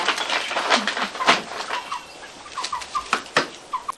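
Farm chickens cluck in short, repeated bursts, near and fairly loud, with a few higher calls scattered through the stretch and no talk over them.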